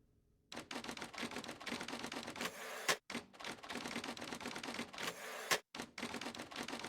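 Rapid, steady clacking of keys typed in the video game The Operator, a dense run of close, crisp strokes with two short pauses, and no voices.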